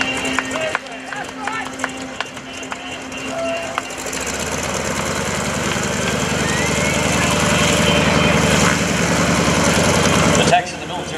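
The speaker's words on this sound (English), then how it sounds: "Geico Sky Typers now on takeoff roll down there on the left. The SNJ-2." Six SNJ-2 Texan World War II trainer aircraft of the GEICO Skytypers on their takeoff roll at an airshow, radial engine drone swelling from a faint hum to a loud, sustained roar before cutting off abruptly.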